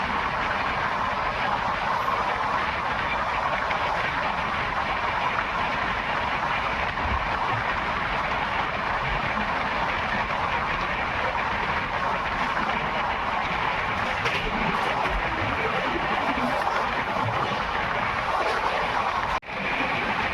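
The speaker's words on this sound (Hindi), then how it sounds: "तो ट्रेन स्किप कर रही है कुशतला रेलवे स्टेशन को।" The 18574 Bhagat Ki Kothi–Vishakapatnam Express runs through Kushtala station without stopping, giving a continuous loud rolling roar with a sharp click near the end.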